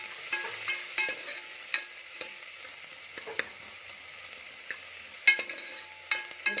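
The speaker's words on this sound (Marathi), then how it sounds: "कांदा आपल्याला परतून घ्यायचा आहे" Chopped onion with a little salt sautéing in a pan for Kolhapuri-style mutton rassa: a faint, low sizzle broken by repeated scraping stirs and utensil taps, close by, with no voices.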